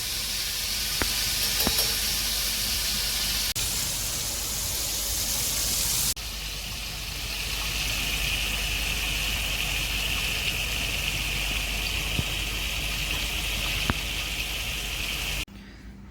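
Bombil (Bombay duck) rolls frying in oil over a low gas flame, a steady close hiss of bubbling with crackly spatter that runs continuously and briefly dips partway through.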